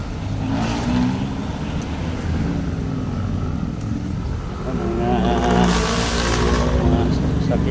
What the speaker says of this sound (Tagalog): Mga sasakyan.